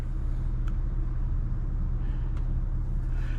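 A car drives steadily along on a farm property, a constant low engine and road rumble close by with a couple of faint ticks and small knocks, no speech.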